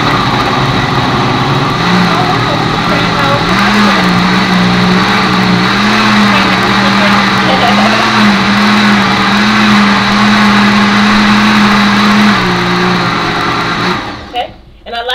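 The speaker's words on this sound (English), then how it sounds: "So let me get this blended down, and then we'll worry about the flaxseed. It's going to get a little noisy." Blender blending a green detox smoothie with ice makes a loud, steady motor whir with a droning pitch that runs nearly fifteen seconds before cutting off.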